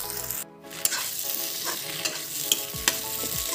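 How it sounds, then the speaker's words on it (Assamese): Vegetable pasta in tomato sauce being stir-fried in a pan, a close continuous sizzle broken by several sharp spatula knocks and scrapes, with no speech. "চচখিনি দি দুই তিনি মিনিট ভাজি লৈছোঁ"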